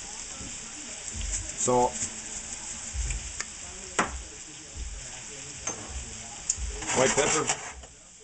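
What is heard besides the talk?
broccoli sizzling in a hot pan with rice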